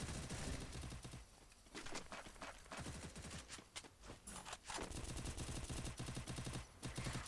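Gunfire in the battle-royale video game Free Fire, bursts of rapid automatic shots and single cracks in quick succession, dense and fairly loud with short pauses between volleys.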